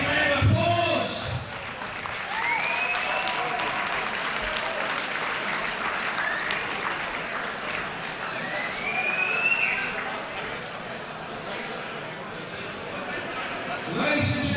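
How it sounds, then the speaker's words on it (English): A fight-night crowd applauds two fighters after a bout, sustained loud clapping and cheering with whistles rising and falling throughout, a voice speaking over it near the start and end. "Let's give both a big round of applause."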